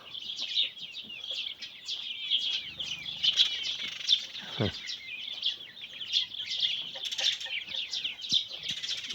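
Drake duck in a poultry yard, near geese, giving a steady run of chattering calls amid bird chirps, with a brief low thump midway.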